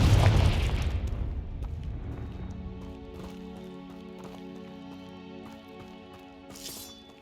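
A Confringo spell explosion in Hogwarts Legacy opens with a loud, deep boom that fades into a lingering tonal ring under quiet game ambience.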